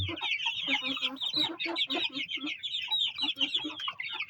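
Several roosters and chickens cluck close by in quick, overlapping bursts, a busy steady chatter of fowl with no pauses.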